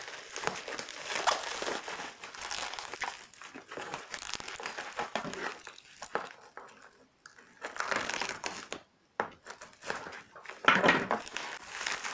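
Packaging for a desk microphone stand crinkles and crumples close up as it is unboxed, in uneven bursts of rustling and tearing broken by short pauses.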